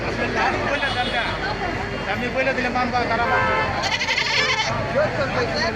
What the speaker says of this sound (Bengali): দেখুন সেই সাতুরিয়া বাজারে ঈদুল আজহার ছাগলের হাট